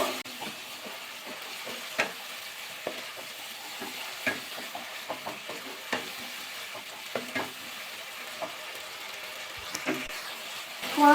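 Spice masala for a cauliflower and pea curry fries in a pan while a spoon stirs and scrapes, giving quiet, steady sizzling broken by many short, sharp knocks, close up and with no voice.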